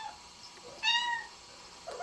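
A house cat gives a single clear, close meow lasting about a third of a second against quiet room tone, with a faint second cry starting at the very end.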